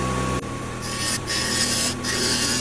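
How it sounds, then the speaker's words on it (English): Hand tool pushed into a small wooden Christmas tree ornament and rotated to widen a hole, giving close, continuous rasping and scraping with a few short pauses in the rotation. "basically just taking the point, pushing it in, and then just rotating the tool with my right hand"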